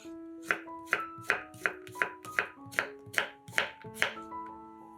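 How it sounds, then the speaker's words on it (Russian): Knife chopping two medium cucumbers into sticks on a cutting board, a steady series of about ten crisp, close chops with short gaps, no talking. "2 средних огурца нарезаем сначала пластинками,"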